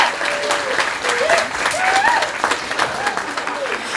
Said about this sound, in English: So let's clap it up for them.